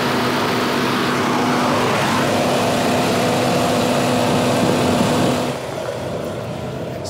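A 3.2-liter naturally aspirated inline-six SUV engine idles steadily at close range, a constant low hum with a faint whine, briefly swelling once before dropping to a softer, quieter idle near the end; no talk.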